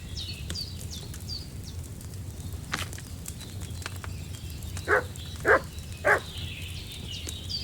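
Three sharp, evenly spaced dog barks from a dog in Kingdom Come: Deliverance II, standing out clearly over a steady outdoor ambience with faint birdsong.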